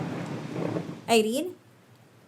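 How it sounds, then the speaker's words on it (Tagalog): Heavy rain pours as a steady, dense hiss, then a single voice briefly calls out over it, and the downpour sound drops away soon after. "Ang lakas pa naman ng ulan"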